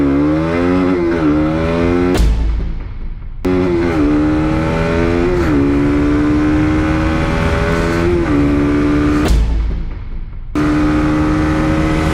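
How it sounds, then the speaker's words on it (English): A 2019 KTM Duke 200 motorcycle on a road test, its engine revving up through the gears in loud rising sweeps, with short dips at each shift and no talk. "it's time to put this motorcycle to the road test and see what it can do"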